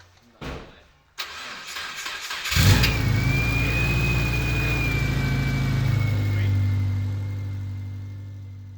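After a few mechanical clicks, a car engine cranks and catches, then runs at a loud, steady idle with a slight rev and a thin whine on top, close to the microphone.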